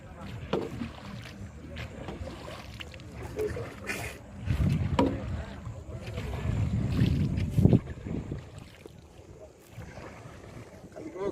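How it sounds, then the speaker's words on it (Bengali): A wooden country boat is rowed across the water, with irregular paddle splashes and knocks over wind noise and people talking nearby. "নৌকা চালাই।"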